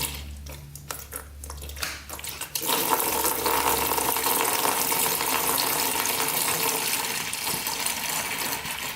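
Coolant gushes out of a Quadzilla Banshee quad being torn down. A steady, loud rush of liquid begins suddenly after a few seconds of quieter handling noise and pours continuously to the end.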